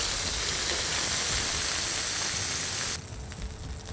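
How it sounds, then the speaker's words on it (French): Half-hour-marinated beef for tataki seared in a fairly hot pan, a loud, dense sizzle and hiss close by that abruptly softens to a quieter crackle near the end. "on va marquer le bœuf qui a mariné pendant une demi-heure dans une poêle assez chaude"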